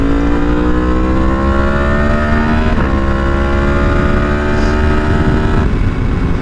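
Yamaha MT10 motorcycle engine droning loud and steady while riding, with rising and falling rev tones and gear shifts shifting the pitch, wind rush underneath throughout.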